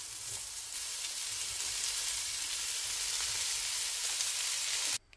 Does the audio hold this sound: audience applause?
no